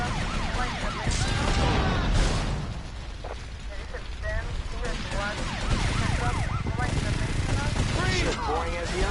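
An ambulance siren in GTA Vice City, wailing repeatedly through a busy game mix with crashes and rumbling, loud and close as the vehicle strikes the player.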